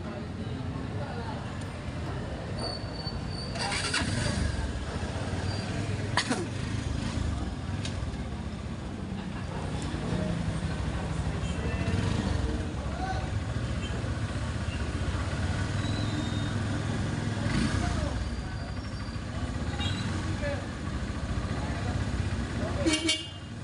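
A tricycle taxi's engine drones steadily through a busy street scene, with several car horns tooting nearby and people talking over the traffic.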